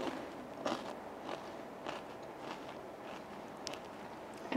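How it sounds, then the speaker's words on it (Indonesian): Crunchy tempeh chips being bitten and chewed, giving several faint, brittle crackles and crunches spread over a quiet stretch with no talking. "Saya mau mencicipi keripik tempenya nih yang paling dicari sama konsumen ya"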